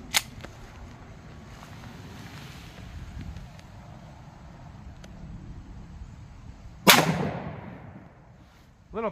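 A single sharp, loud gunshot from a 1911 pistol with a 5-inch barrel firing .357 Sig ammunition outdoors, followed by a fading echo over light wind, with another sharp crack at the very end.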